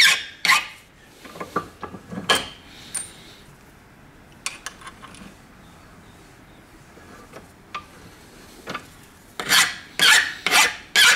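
Metal screws from an 1865 Forster & Andrews pipe organ are scraped clean by hand in short raspy bursts, with irregular strokes, a quiet gap in the middle, and a rapid run of scrapes at the end.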